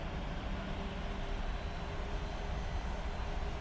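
Boeing 737-800 jet engines in a flight simulator spool up while the airliner taxis toward the runway, a steady, fairly quiet broadband roar with a faint whine running through it, no voices.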